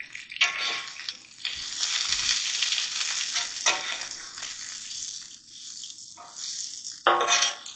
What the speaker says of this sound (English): Get these frying a little bit.